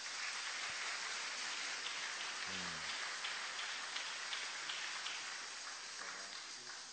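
A church congregation claps continuously to acclaim the Lord, a dense, faint, rain-like patter of many hands that holds steady, with a brief low sound partway through.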